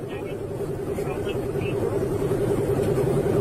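A car travelling at high speed gives a steady, loud engine and road roar that swells slightly toward the end, close by, while a voice talks over it.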